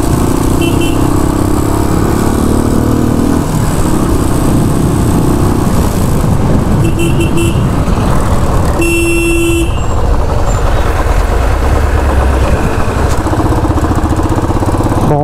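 A Royal Enfield Bullet motorcycle engine runs continuously, loud and close, amid busy road noise with a few car horn toots in the background.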